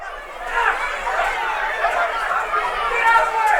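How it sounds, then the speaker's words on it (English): Crowd noise from a wrestling brawl spilling through an arena audience, a dense continuous roar of chatter and shouting with no single voice standing out. "We can hear that brawl taking place throughout the crowd."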